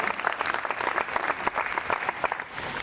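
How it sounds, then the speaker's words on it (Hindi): Audience at a Hindi kavi sammelan poetry gathering claps steadily, a dense continuous patter of many hands at moderate volume throughout. "एक बार पुनः इनके लिए ताली हो जाए।"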